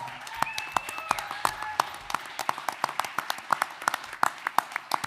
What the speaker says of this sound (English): should get a big round of applause right now